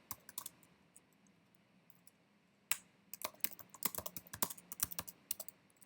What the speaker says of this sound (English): Now I'm just going to put my quote in, so I'll just type this out quickly